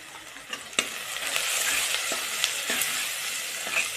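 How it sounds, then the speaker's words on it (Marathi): Ginger-garlic paste and turmeric frying for a village-style mutton curry, a bright steady sizzle with several sharp spoon scrapes and taps as the paste is stirred, close and fairly loud, no talk. "एक छोटा चम्मच आपण आले लसूण पेस्ट टाकणार आहोत यात ते पण चांगलं हलवून घेऊया"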